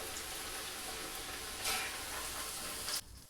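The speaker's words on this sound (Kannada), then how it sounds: "ಇವಾಗ ನಾವು ಹಾಕಿರುವಂಥ ಗೋಬಿ ಚೆನ್ನಾಗಿ ಫ್ರೈ ಆಗಿದೆ." Cauliflower florets for gobi manchurian frying in hot oil, giving a steady close sizzle that swells briefly and then cuts off abruptly near the end.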